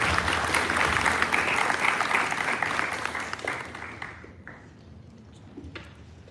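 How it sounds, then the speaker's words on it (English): An audience at a sixth form leadership summit breaks into dense applause that thins and fades away over several seconds, leaving a few scattered claps. "Can we have a huge round of applause as he joins us?"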